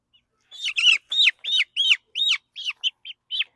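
A young chick peeps near a brooder after wandering out through a fence, giving about ten short, bright, evenly spaced chirps close by and alone.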